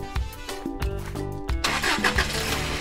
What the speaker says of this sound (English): Now my Jeep sounds just right.